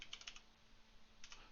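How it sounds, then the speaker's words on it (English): Soft, faint keystrokes on a computer keyboard during software coding: a quick cluster of taps, a pause, then another short burst near the end. "I'm just typing the first couple letters and enter."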